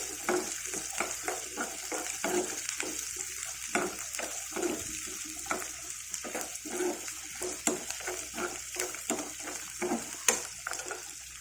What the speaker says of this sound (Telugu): ఆనియన్ వేగి తింటేనే బాగుంటుంది కదా అసలు